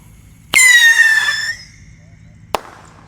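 Pyrotechnic rocket firework launching with a loud whooshing, descending whistle that lasts about a second and then fades, followed by a single sharp pop. Both sounds are heard alone and fairly close by.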